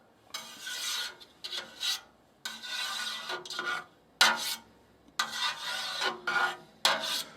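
A knife slices through a vat of set farmhouse cheddar curd, cutting it into cubes, with repeated rasping strokes in bursts separated by short pauses, close and clear with no talking.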